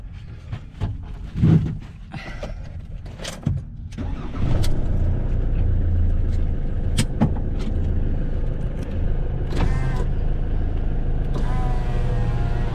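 A camper van just collected after shipping cranks over amid some handling noises, then its engine catches and settles into a loud, steady idle rumble close by.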